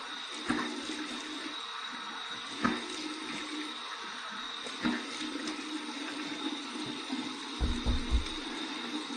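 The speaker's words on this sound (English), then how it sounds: "here's my warm water rinse" Warm water is splashed onto the face after a safety razor shave, three soft splashing bursts spaced a couple of seconds apart, with a final busier splash, over a steady background hum.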